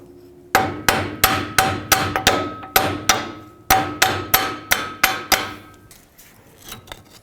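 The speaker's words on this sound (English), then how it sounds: "remove the drive shaft by prying it straight out. Or by tapping it out." A hammer taps out the front drive shaft on a 2008-2010 Ford F-250, about fifteen loud, sharp metallic strikes in a steady rhythm with ringing decay, followed by a few fainter knocks.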